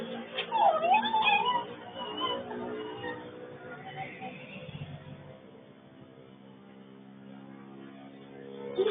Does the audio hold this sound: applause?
no